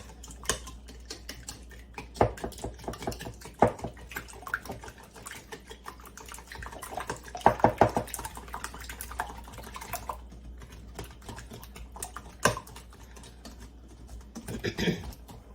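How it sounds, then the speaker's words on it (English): Egg omelet batter with salt and pepper being beaten by hand, a quick run of light clicking whisk or fork strikes against the bowl, uneven in rhythm and fairly close, with a short pause partway through. "So I'm just adding the salt and pepper, and I'm going to beat these up."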